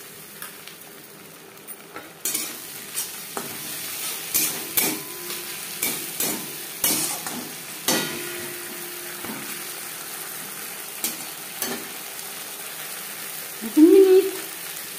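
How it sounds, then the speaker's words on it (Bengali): Ginger and green and red chili paste sizzles with fried onions in a pan for a silver carp and potato curry, with a spoon repeatedly scraping and clinking through it; a voice speaks briefly over the steady frying. "পেঁয়াজ ভেজে নেওয়ার পর দিয়ে দেবো আদা ও কাঁচা পাকা লঙ্কার পেস্ট।"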